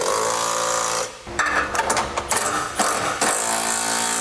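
Close ratchet whirring and clicking in bursts as trailer hitch bolts are snugged down under a 2019 Chrysler Pacifica.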